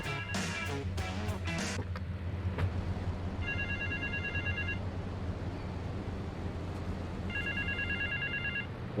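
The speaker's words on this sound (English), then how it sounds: "there's the payphone" A payphone rings in Grand Theft Auto: Vice City with two clear bursts of electronic ringing a few seconds apart over a steady low city hum. Brief bright tones come just before the rings.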